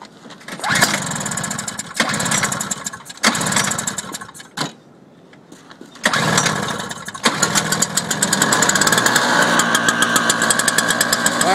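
A Toro snowblower engine being started with several short cranking bursts and a pause, then catching and running at a loud, steady, rapid chugging close by.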